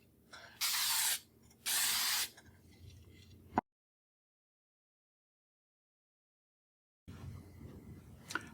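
Two loud, steady bursts of aerosol spray, each about a second long, hissing close up, followed by a sharp click and silence.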